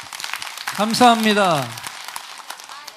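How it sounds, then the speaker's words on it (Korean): A congregation applauds during a Sunday church worship service, a dense patter of clapping that runs on after a man's brief spoken words of thanks and carries under his voice. "할렐루야 박수로 화답해 드리겠습니다"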